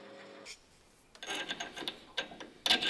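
A hand tap cutting threads into a workpiece at a lathe: faint intermittent rasping scrapes and small ticking clicks come close, in irregular strokes, with no talk.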